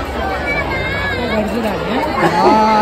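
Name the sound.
crowd chatter at the Datta Jayanti temple fair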